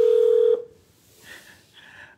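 A telephone call is placed: a half-second steady dialing tone sounds, then cuts to near silence, with two faint, short ringback pulses following.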